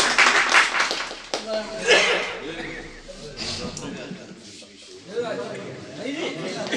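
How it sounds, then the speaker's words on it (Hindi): Mushaira audience clapping in short bursts mixed with chatter and laughter, moderately close, broken up and uneven rather than one long ovation, with voices talking throughout. "एक जोरदार तालियों से उनका खैर मकदम कीजिए।"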